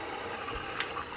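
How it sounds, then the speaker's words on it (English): Water pouring into a tank, a steady rushing fill heard close and alone. "let's see if we put water in, if it holds it, if it drops straight out"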